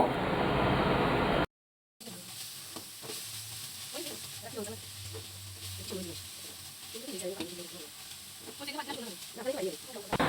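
Vegetables for a Thai soup being sautéed in a little oil in a pan make a soft, steady sizzle after a brief loud burst and a short silence, while someone talks over it.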